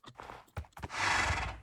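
A white horse in a video game gives a few snorts and hoof sounds, then a drawn-out, fairly loud whinny, heard up close with no talking.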